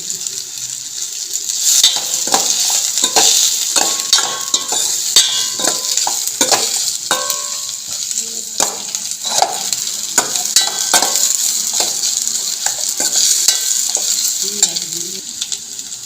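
Dried red chillies and curry leaves crackling in hot oil, a loud continuous close sizzle with bursts of popping and occasional stirring, no voices.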